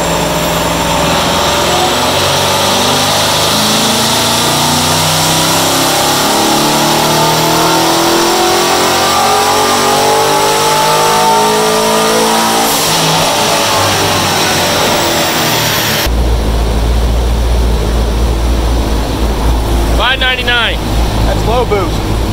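Corvette engine running on a dyno on a cool 63-degree day, revving up in a long rising pull at loud, close range, then cutting out abruptly before a quieter tail, with a voice speaking over it.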